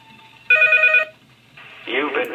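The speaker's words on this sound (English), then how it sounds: "Is that the phone?" In the game Unreal PT, a telephone rings once in a loud electronic burst lasting about half a second, followed by someone speaking close by.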